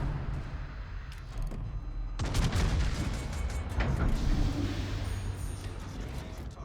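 In a naval video game, the Tirpitz battleship takes incoming gunfire: booming shell impacts and artillery blasts crackle and rumble over several seconds, with a sharp onset of heavy fire partway through.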